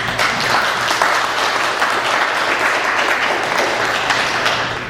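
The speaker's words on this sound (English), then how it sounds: "Let's give them a round of applause." An audience at a civic leadership forum gives sustained, loud applause for volunteers. Dense clapping holds steady for about five seconds and fades slightly at the end, with no voices heard.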